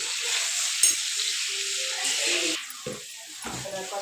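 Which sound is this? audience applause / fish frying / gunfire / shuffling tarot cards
fish frying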